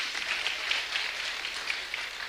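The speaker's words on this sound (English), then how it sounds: "Let's give her a big round of applause" Awards ceremony audience giving a sustained round of applause, a soft, even crackle of many hands clapping at a distance with no talking over it.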